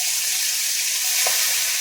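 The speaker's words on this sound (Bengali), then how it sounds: "মাথাগুলো একটু ভেজে নিয়েছি, এবারে আবার দিয়ে দেবো মাথা।" Hilsa fish heads fry in a pan with oil, giving a steady, close, even sizzle that carries on without pause and has no voices over it.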